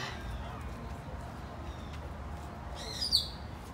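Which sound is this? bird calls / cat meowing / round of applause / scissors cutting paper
bird calls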